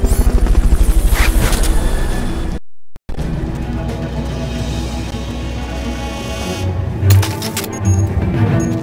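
A helicopter in the video game Metal Gear Solid: Peace Walker, a loud rhythmic rotor chop that cuts out briefly, then continues as a steady engine drone with game sound effects layered on top.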